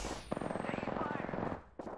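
Rapid automatic gunfire in Apex Legends, a loud, close burst of evenly spaced shots lasting over a second, ending with a sharp swishing effect.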